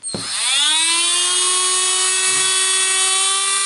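A repaired Dremel 800 10.8V lithium-ion cordless rotary tool spins up quickly and then holds a steady, loud high-pitched whine with layered harmonics, running alone without any speech.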